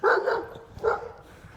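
A dog barks twice, close and loud, with two short sharp yaps about a second apart and nothing else around them.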